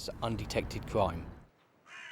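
Ravens cawing at the Tower of London, harsh calls mixed in with someone speaking French in the foreground, then one raspy caw heard alone at the end.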